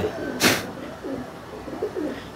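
Soft coos from a male Madrasi pigeon repeat three or four times close by, low and throaty, after a brief sharp noise burst near the start.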